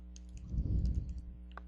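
Brief burst of computer keyboard typing as data is entered, a quick cluster of close, light key clicks over a low steady hum, with one last isolated tap just after.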